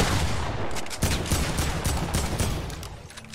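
Assault rifle gunfire in the Fortnite video game comes as rapid, loud bursts of shots, with dense volleys and short pauses between them.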